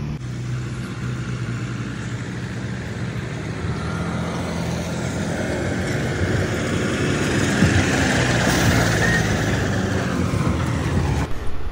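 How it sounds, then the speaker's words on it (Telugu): Truck driving forward to make a U-turn, with a continuous low engine rumble and road noise that swells gradually toward the end, heard from fairly close with no speech. "యూటర్న్ చేసుకొని వస్తుంది బండి."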